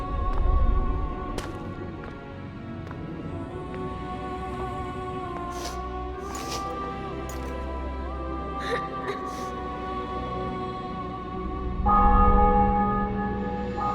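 Church bells ring out in The Witcher 2: Assassins of Kings after a city and fortress are taken, heard as sustained tolling tones under game music and scattered voices, swelling louder at the start and end.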